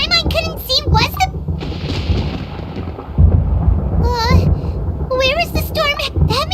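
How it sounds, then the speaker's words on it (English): Rumbling thunder in the video game Genshin Impact, a low rolling roar building for several seconds with a heavier crack midway, heard between and beneath bursts of character voices speaking. "Paimon hears thunder!"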